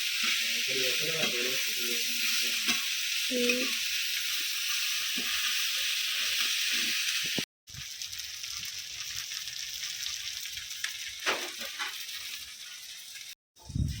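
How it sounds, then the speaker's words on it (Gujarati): Corn mixture being stirred in a hot pan, a steady sizzle and hiss with scraping stirs, close, with brief bits of talk early on. "આપણે આ રીતનું હલા નાખીએ એટલે બધું મિશ્રણ મિક્સ થઈ જાય"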